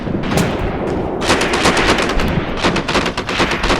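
Bursts of BAR automatic rifle fire in a WW2 tank battle game set among ruins in Tunisia, 1943: loud, close rapid shots in short strings over a constant din of battle, with no talking.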